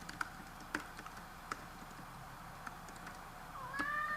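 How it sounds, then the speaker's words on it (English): Scattered keystrokes click at irregular intervals on a keyboard hooked up to a vacuum fluorescent display, faint and close in a quiet room, with a brief higher whine near the end. "So we can type on this thing."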